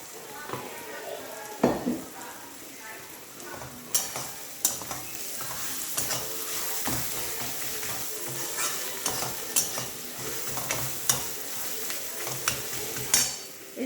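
Onions frying in oil for an egg curry, a steady sizzle under repeated scraping stirs and light clinks of a spoon against the pan.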